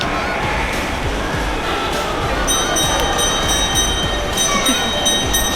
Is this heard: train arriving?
yes